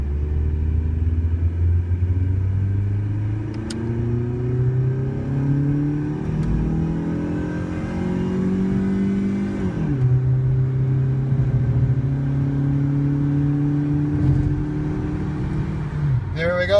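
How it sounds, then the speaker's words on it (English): A Dodge Neon accelerates hard from a stop toward 60, its engine climbing through several gears with rising whines and brief dips at each shift, heard from inside the car, loud and continuous. "that's your 0 to 60 pull in the Neon"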